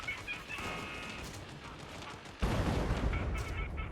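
Gunfire in the video game Fallout 76: faint distant shots, then a sudden jump at the midpoint into a loud, dense wash of rapid shooting and explosive rumble that keeps going to the end, with no voices.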